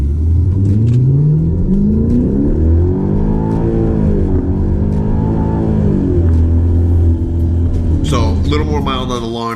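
A 2012 Hyundai Genesis 5.0 R-Spec with about 140,000 miles launches from 1,000 RPM and accelerates hard, its loud engine note climbing steadily through the run, a brief gear-change dip midway and a rising whine near the end.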